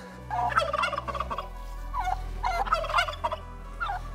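Turkeys on a farm gobble in repeated bursty calls, several birds at once, fairly close, with a low steady hum underneath.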